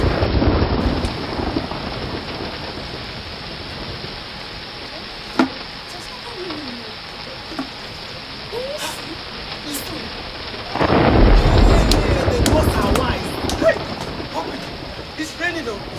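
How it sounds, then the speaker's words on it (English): Rain falls steadily with a crackling patter while thunder rolls, first near the start and again in a heavy, loud burst late on. Faint scattered sounds sit under the downpour. "It's raining though. Yes, it's raining."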